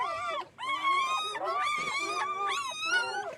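Newborn puppies from a fresh litter of seven whimper and squeal in high, wavering cries, several voices overlapping continuously and close by.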